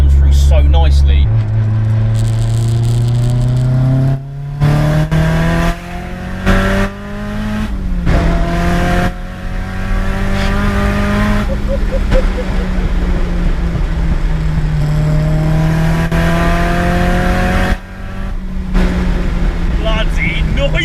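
A Nissan S14 show car engine revs hard close by, climbing and falling through repeated throttle blips with a raspy, loud exhaust note, and voices can be heard under the noise.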